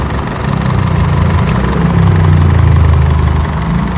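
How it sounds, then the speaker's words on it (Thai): An Isuzu pickup's diesel engine idles steadily up close, a low even rumble with no voices over it. The engine has a fault that pushes smoke out of the dipstick tube. "คันนี้ จะทำการสตาร์ทเครื่องยนต์ทิ้งไว้นะ"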